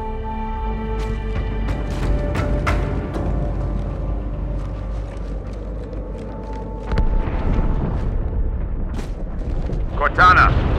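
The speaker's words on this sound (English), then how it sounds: "That explosion came from inside the Athens." A deep, rumbling explosion aboard a ship in Halo 2: Anniversary, with booming blasts and debris crashes layered over a steady low roar and game music, while characters talk over the action and a louder burst comes near the end.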